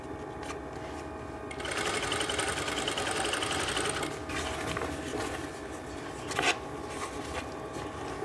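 An electric sewing machine stitches a skirt's fabric along the edge, a fast mechanical whir that runs in bursts with brief pauses and a small clack, close and fairly quiet.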